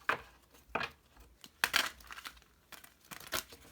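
Crisp papery riffling bursts, several short shuffles spaced out over a few seconds, close to the microphone with no talking.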